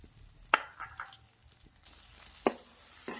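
Onion sizzles in butter with ginger and garlic in a kadai, a soft steady fry broken by a few sharp clinks of a spoon against the pan, no talking.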